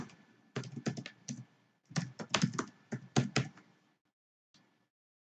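Password keys tapped on a computer keyboard during an Ubuntu Desktop 20.04 install in VirtualBox: close, quiet bursts of rapid keystrokes in several clusters, then a pause with a few stray taps, no talking.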